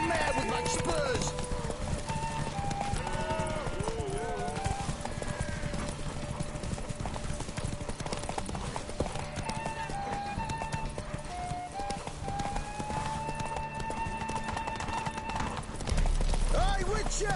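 Horse hooves gallop in The Witcher 3: Wild Hunt, a steady rapid clip-clop running throughout with an occasional whinny, under game music and characters talking.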